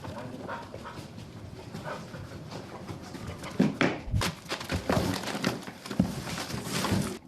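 A Belgian federal police detection dog at work during a search for drug money in Antwerp, with sniffing, soft whimpers and knocks of wood being moved around it, fairly close in a busy room.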